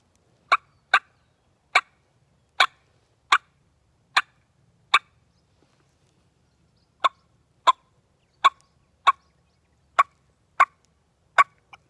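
Wild turkey alarm putts imitated on a mouth call, sharp single clucking pops in an evenly spaced series with one gap midway, close and crisp against silence.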